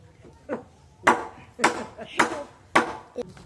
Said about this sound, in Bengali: তো এখন খড়ি কাটছি কারণ আজকে গ্যাসে রান্না হবে না